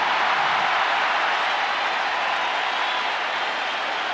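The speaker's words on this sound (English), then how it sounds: "Listen to this crowd here in Los Angeles." Large baseball stadium crowd in Los Angeles roaring and cheering after a deep home run to right field at a 1990 Mets versus Dodgers game, a steady, broad wash of crowd noise throughout.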